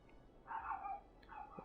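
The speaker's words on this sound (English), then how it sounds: "can you hear that dog?" A dog in the city-building game Cities Skylines gives two short barks, very faint and distant over a quiet background.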